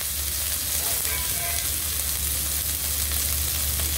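Garlic and green chilies frying in hot oil in a wok, a loud, dense, continuous sizzle up close that holds steady throughout with no talking.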